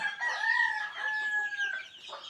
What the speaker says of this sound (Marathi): आणि आता काही कोंबड्या ज्या होत्या त्यांना आता आपण पुन्हा रिलीज केलं आहे इकडे कोंबड्या आहेत पिल्लांबरोबर